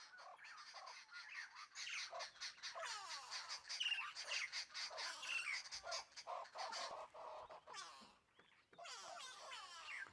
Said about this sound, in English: the audio is so cool with all these birds going crazy